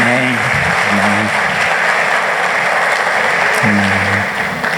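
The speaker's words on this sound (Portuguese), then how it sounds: "Vamos dar uma salva de palmas," Loud, continuous applause from a church congregation during a Christmas sermon, a dense wash of clapping hands. A voice calls out over it twice, briefly at the start and again near the end.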